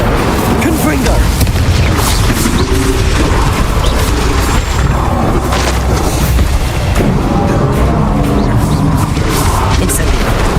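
Confringo fire-blast spell exploding in the Hogwarts Legacy video game, a loud, dense run of booming blasts and crashes that fills the whole stretch, with game voices over it.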